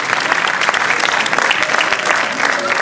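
A crowd at an academy event gives a loud, sustained round of applause, with dense, steady clapping filling the room and a few voices faintly mixed in.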